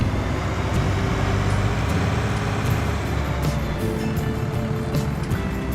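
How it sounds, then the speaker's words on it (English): A tractor engine in Farming Simulator 19 runs at a steady idle, a continuous low droning hum that holds even and fairly loud with no talk over it. "Start the engine first before we move off"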